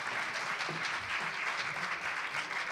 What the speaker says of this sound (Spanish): un aplauso por favor a los ponentes